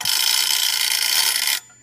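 An 1890s Gamewell fire alarm telegraph box mechanism being rewound gives a loud, steady mechanical whirring and ratcheting for about a second and a half, then stops abruptly, leaving a faint hum.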